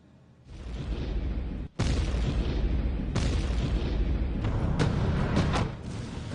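Heavy explosions and gunfire boom at the Azovstal steel plant in Mariupol, a dense, continuous roar of blasts with sharp pops and cracks layered through it.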